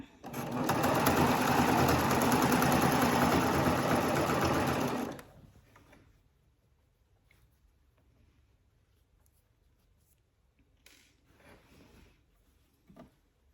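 A sewing machine stitches a seam through three layers of fabric for a bubble-bottom project, running as a loud, steady, continuous buzz for about five seconds before stopping, followed by quiet fabric handling.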